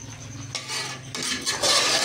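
A capsicum (shimla mirch) dish is stirred in a cooking pan, with metal-on-pan scraping and clinking. The scraping comes in a few short bursts and grows louder toward the end, and no one is talking.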